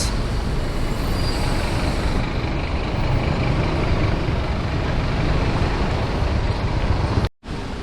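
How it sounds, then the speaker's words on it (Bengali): A tourist bus rumbles past on a narrow street in Malaysia, a loud, close, continuous engine and road roar that holds steady for several seconds. "এটা হচ্ছে টুরিস্ট বাস"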